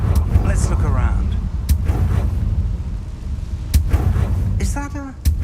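A Confringo fire spell in the Hogwarts Legacy video game bursts with a heavy booming blast amid constant rumbling game noise, with a few sharp impacts and a voice speaking over it.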